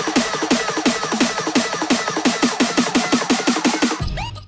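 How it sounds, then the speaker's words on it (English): Looping drum hits and snare rolls stack into a dense, loud build-up, every element at full level with no swells or dips. "in the second build-up, there are a lot of build-up drums and snare loops."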